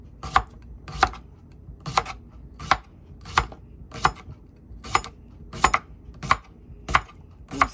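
A knife slices through a cucumber on a cutting board for a salad, giving about a dozen crisp, evenly spaced chops, close and clear against a quiet background.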